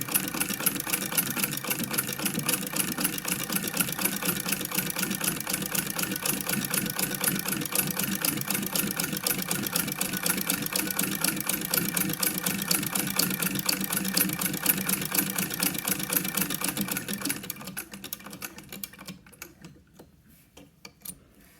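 A Singer sewing machine with a buttonhole attachment stitches a widened zigzag, a steady fast mechanical whirr and clatter running close and loud, then slowing and stopping near the end.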